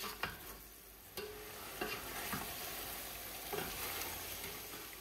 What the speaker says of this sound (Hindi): गोश्त को तेज आंच पे 5 मिनट पका लेते हैं।